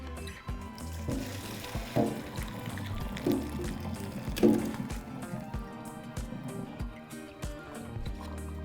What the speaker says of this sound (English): We're going to drain the water